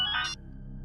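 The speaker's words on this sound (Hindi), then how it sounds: "लगता है उसी का फोन।" A phone rings in a tense domestic scene of a Hindi horror drama, giving one short, bright electronic ringtone burst that cuts off abruptly into quiet room tone.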